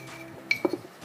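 A metal spoon clinks against a cup while coffee powder is spooned in, one bright clink followed by a couple of softer taps, close and brief.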